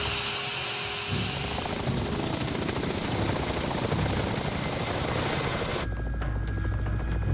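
A helicopter approaching a dinosaur dig site in Canada gives a loud, steady throbbing rotor drone that fills the whole stretch, with no talk over it.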